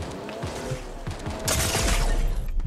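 Rapid gunfire from a Fortnite match, a dense burst of shots that grows louder and more sustained partway through, close and loud with a busy game-action background.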